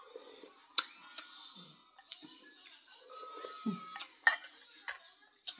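A spoon clinks and scrapes against a cooking pot as food is stirred, with irregular metallic taps and rattles at close range. Quiet talking and small kitchen noises run underneath.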